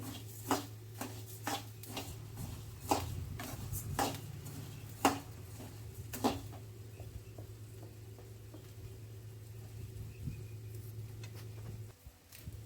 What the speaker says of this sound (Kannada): ಧನಿಯಾ ಕಾಳು ಅವ್ಕೂರ್ನ ಚಲೋತ್ನಾಗ ಎಣ್ಣೆ ಒಳಗೆ ಹುರ್ಕೋಬೇಕ್ರಿ